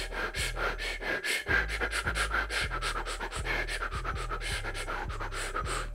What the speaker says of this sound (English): you can see how you could already create beats with just breathing